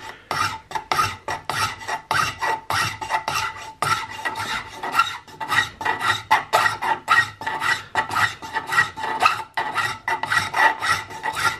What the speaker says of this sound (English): take this fine flat file here, and I wanna clean up the butt plate